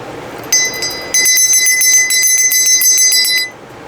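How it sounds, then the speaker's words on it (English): A small bell at a Samhain ancestor altar rings clearly and repeatedly, its bright sustained tones overlapping in a steady shimmering run before fading, with no talking. "You're going to ring the bell, and you're going to do that 3 times."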